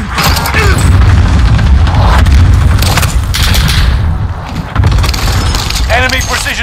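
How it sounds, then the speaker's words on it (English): Precision airstrike explosions in a shooter video game come as a continuous barrage of loud, deep booms and crackling blasts that rumble without pause, with a brief dip near the end before resuming, and a voice speaking underneath. "Enemy precision airstrikes."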